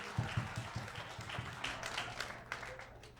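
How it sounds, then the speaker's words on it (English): Audience at a Sunday spoken-word gathering claps for a performer's mother, starting with a few distinct, spaced claps that thin into scattered, softer clapping in a reverberant room. "Y'all can clap for my mother."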